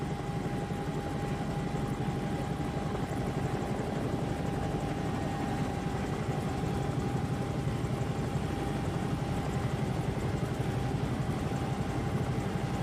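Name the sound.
Bell 222 helicopter in flight simulator video game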